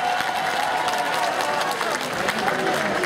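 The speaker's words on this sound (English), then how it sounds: "clap if you were at Cal State Northridge 5 years ago" Audience at the Vex Robotics World Championships clapping and cheering in a large arena, a dense steady wash of applause with crowd noise throughout, voices mixed into the roar.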